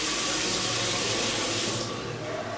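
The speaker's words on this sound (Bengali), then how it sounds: "মুখটা ফার্স্টে জল দিয়ে ধুয়ে নিচ্ছি" Close, steady rush of tap water running into a sink during a face wash, loud and continuous, easing slightly near the end, with no talk.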